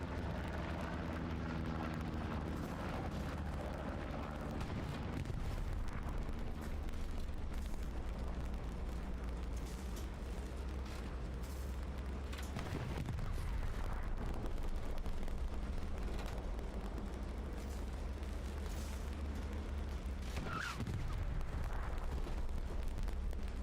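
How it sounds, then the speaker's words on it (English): Distant tank cannon fire and explosions rumble across a Hell Let Loose tank-only match, deep booms rolling through a continuous low battlefield drone, with a sharper blast near the end. "That is some really good long range shooting there."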